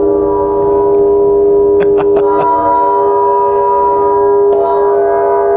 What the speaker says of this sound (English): it's like a mini gong